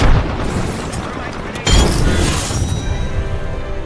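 A frag grenade goes off in Apex Legends, a loud sudden boom midway through, following a dense bed of battle noise and trailing into a rumbling decay, with voices speaking around it.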